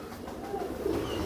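A high flyer pigeon coos softly at close range, a few low throaty murmurs rising over a quiet background, with no speech.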